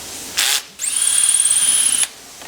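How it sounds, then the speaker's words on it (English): Power drill driving screws into a glued-up knife handle in a knife production shop: a short burst, a pause, then a longer steady high whine that stops abruptly, with no talking. "Glued up, tightening screws."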